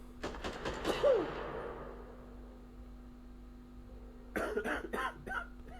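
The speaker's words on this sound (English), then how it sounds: "Cough." A game character in Quarantine Zone: The Last Check gives a short burst of coughs, with another cluster of coughs a few seconds later, over a steady low hum.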